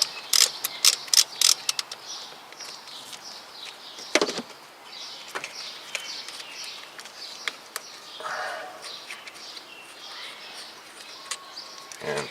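A ratchet is used to take off the starter cable nut on a ninth-generation Toyota Corolla, giving quick clicking bursts at first and then lighter mechanical ticks over faint background noise.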